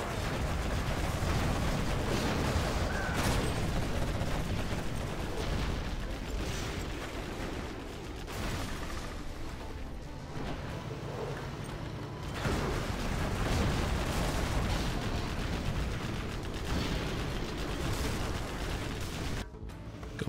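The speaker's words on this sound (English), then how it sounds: "A lot of the missiles there hitting the ground." Missiles striking the ground in the real-time strategy game Command & Conquer: Generals Zero Hour, GLA versus stealth faction air battle: a dense, continuous barrage of booming impacts and crackling explosions, loud and unbroken.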